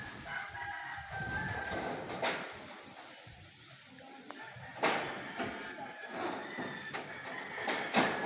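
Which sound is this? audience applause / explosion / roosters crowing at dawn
roosters crowing at dawn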